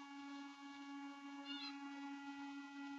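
A cat meows briefly while being fed, a short high cry rising over a steady droning hum and soft low clicks, with no talking.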